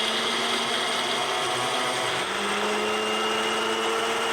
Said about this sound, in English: Then blend it until it's a nice fine powder.